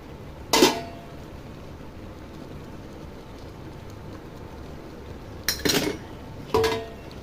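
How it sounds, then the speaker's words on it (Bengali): Metal lid set down over a cooking pot of boiling Malabar spinach leaves, a sharp clatter followed a few seconds later by two more close clinks, over steady soft background hiss. "এগুলো সিদ্ধ হওয়ার জন্য আমি একটু ঢেকে দিচ্ছি"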